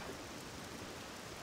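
Steady rainfall in OpenMW, a dense, even hiss of rain with no breaks, alone and moderately loud.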